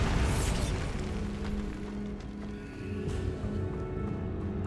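A Bombarda spell explosion in Hogwarts Legacy on PS5 bursts with a loud boom and whoosh at the start, followed by a rumbling, crackling decay over steady low game ambience.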